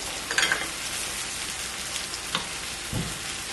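Minced garlic sizzles and crackles in a hot frying pan, a soft steady hiss with a few brighter pops and a low clunk near the end.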